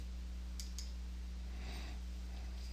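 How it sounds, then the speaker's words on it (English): A computer mouse gives two quick, faint clicks close together near the start, over a steady low electrical hum, with no talking. "So I'm going to click."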